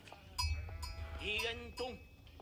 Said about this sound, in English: And then these guys kill the sheep.